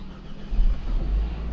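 A car engine cranks and catches during an electric handbrake and rear brake pad job, a low rumble rising quickly to a steady close idle after a brief quiet start.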